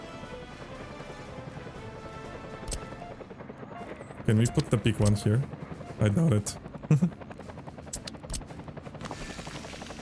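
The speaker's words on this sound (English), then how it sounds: "Purchase a helicopter for the fire station." A helicopter in the city-building game Workers and Resources: Soviet Republic, bought for a fire station, gives a steady low rotor hum through the whole stretch while someone talks over it.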